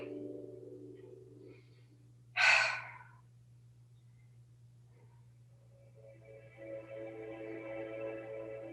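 A single slow, breathy exhale comes during a gentle yoga twist lying on a mat, close and soft, with quiet before and after over a faint steady hum.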